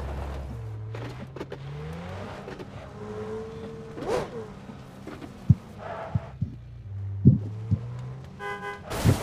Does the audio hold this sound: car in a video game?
yes